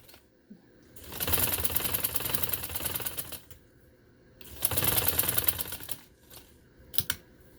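A sewing machine stitches lace onto a garment neckline in two long, loud runs of rapid, even needle chatter separated by a pause, followed by a few brief start-and-stop bursts.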